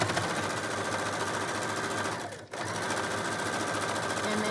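A sewing machine runs steadily and close, sewing over the top of a gray bonnet mask, with one brief dip in the motor's hum midway through.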